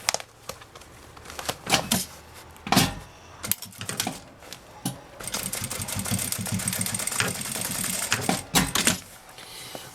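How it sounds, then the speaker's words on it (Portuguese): A sewing machine stitching a seam on a zipper pouch with a clear vinyl window runs in short, rattling bursts, then a longer steady run, with brief pauses between. "vou passar uma costura aqui"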